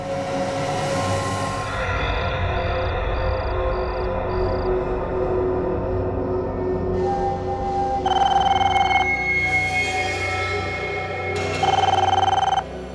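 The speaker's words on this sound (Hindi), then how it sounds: "किसका फोन हो सकता है?" A telephone rings at night in an apartment building, with repeated loud electronic ring bursts sounding over a background music score.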